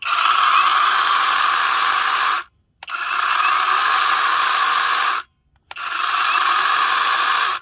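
A small Dewalt 20V battery electric mini chainsaw with an oiled chain whines in three steady bursts of about two and a half seconds each. Each burst cuts off abruptly into brief silence.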